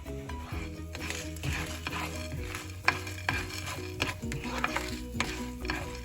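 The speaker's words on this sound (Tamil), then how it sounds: "இதில் 1/2 ஸ்பூன் உளுந்து, 1 ஸ்பூன் கொத்தமல்லி விதை, 1 ஸ்பூன் கடலைப்பருப்பு, ஒரு 3 காஞ்ச மிளகாய் இதை சேர்த்து சிவக்க வறுத்துப்போம்" Steady sizzling as lentils, coriander seeds and dried red chillies roast in oil in a pan, with stirring scrapes and occasional utensil clinks, close and continuous, no voices.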